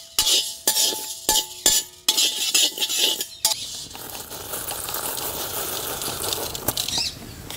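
Chana dal, rice, black pepper and fenugreek seeds are dry-roasted in a pan for sambar powder. A spoon makes rapid rattling, scraping strokes against the pan, then the sound turns into a softer, steady rustling shuffle of grains, close and without speech.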